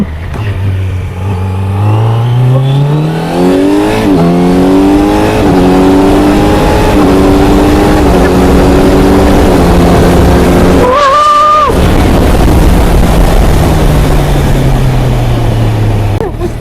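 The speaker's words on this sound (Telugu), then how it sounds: "క్విక్ షిఫ్టర్ ప్లస్ కంట్రోలింగ్ చాలా అంటే చాలా బాగుంది, సూపర్." A 2025 Kawasaki Z900 motorcycle accelerating hard, the engine note climbing repeatedly through rapid quickshifter upshifts, then a loud rev spike before settling into a steady high drone, close and loud with no talk.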